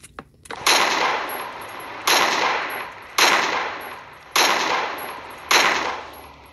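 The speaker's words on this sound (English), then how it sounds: "Can you guys stop shooting these zombies?" Five loud, sharp bursts of video game gunfire aimed at zombies, each a hard crack with a ringing, fading tail, spaced about a second apart and heard alone.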